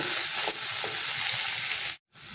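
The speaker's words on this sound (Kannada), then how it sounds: "ಇವಾಗ ಇದಕ್ಕೆ ನಾವು ಹೆಚ್ಚಿಟ್ಟಿರೋ ಟೊಮೆಟೊ ಹಾಕ್ಕೊಳ್ಳೋಣ" Chopped tomatoes hitting a hot frying pan for palak paneer, giving a steady broadband sizzle that holds for about two seconds before cutting out briefly and resuming.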